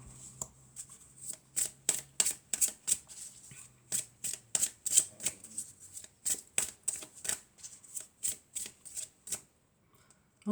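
Tarot cards riffle and slap in a long run of quick, crisp shuffles close to the microphone, with brief pauses between bursts and a faint voice now and then.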